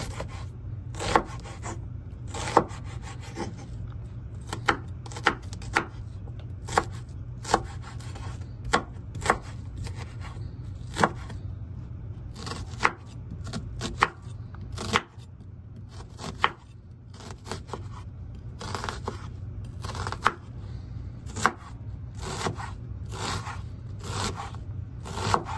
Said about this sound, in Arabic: هنعمل البصل نخرطه، الفلفل الالوان والثوم والحاجه ونجهزه